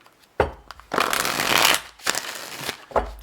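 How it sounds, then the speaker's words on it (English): Tarot cards are shuffled in several quick riffling bursts with soft taps and pauses between them, close and fairly quiet. "Let's give this another shuffle."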